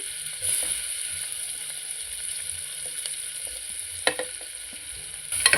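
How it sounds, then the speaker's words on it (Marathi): Onions sautéing in butter for pav bhaji give off a steady, moderate sizzle with occasional clinks and scrapes of a stirring spoon against the pan, and no voices. "कांदा आपण परतू परतून घेणार आहोत कांदा लालसर होईपर्यंत आपल्याला परतायचा आहे"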